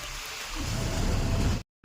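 Steady rain patters and hisses against a car's closed windows close by, then cuts off abruptly into silence before resuming briefly at the end.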